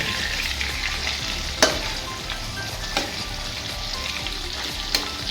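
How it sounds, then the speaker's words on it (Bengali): Fish fries in a wok and is stirred, giving a steady, close sizzle with a few sharp clicks of the spatula against the pan. "এবার সব মাছ ভেজে নেব।"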